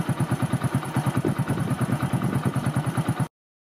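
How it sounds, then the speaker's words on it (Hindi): A motorcycle engine idles steadily nearby, its low chugging pulses even and rhythmic before cutting off abruptly. "यहाँ एक मोटरसाइकिल की ये आवाज सुनो"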